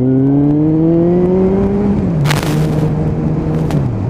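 A Suzuki Bandit 1250cc motorcycle engine revs up steadily with rising pitch, a brief dip as it shifts gear partway through, then pulls on loud and close with wind rush, no talk.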